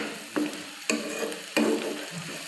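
Ginger garlic paste sizzles in a pan for chole while a spoon stirs it, close-up frying hiss broken by three distinct scraping strokes, with no talking.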